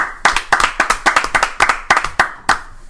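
A small group clapping to welcome someone, a quick run of sharp, close handclaps that go on for about three seconds without talk.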